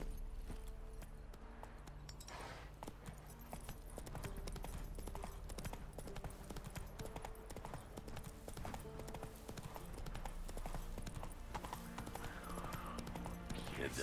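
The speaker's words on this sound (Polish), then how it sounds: "Chodź koń." Horse hooves clip-clop in a steady rhythm in The Witcher 3 game as the horse trots along, faint and continuous, with game ambience underneath.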